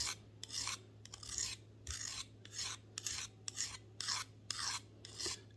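A file draws along a pruning shears blade in eight or so steady rasping strokes, each about half a second with brief pauses between, close but quiet over a faint low hum, with no talk.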